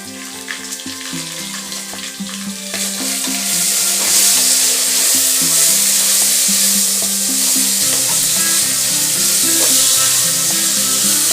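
Mint and coriander leaves sizzle and fry in hot oil, a loud steady crackle that swells after a few seconds, with stirring scrapes throughout.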